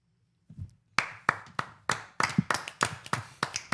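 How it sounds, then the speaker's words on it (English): A soundboard applause effect plays as a sparse run of about a dozen sharp, distinct hand claps in a quickening rhythm, close and clear, after a brief soft sound. "That was applause."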